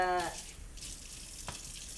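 Water runs steadily from a shower or tap while hair is rinsed, a soft continuous hiss with a brief louder splash partway through; a short tonal sound opens the moment.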